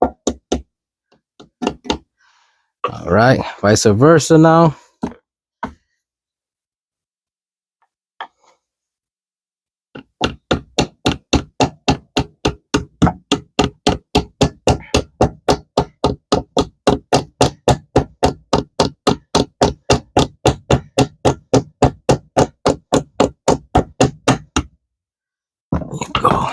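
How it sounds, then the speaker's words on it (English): Repeated dull knocks from a rubber mallet striking an automatic transmission part, a long steady run of evenly spaced blows after a few scattered hits and brief talk. "with the rubber hammer, I'm going to hit one side"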